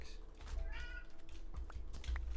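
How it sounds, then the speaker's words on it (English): A cat meows in a survival video game, a short clear mew near the middle over low background hum and clicking, with a voice nearby. "Hi, kitty."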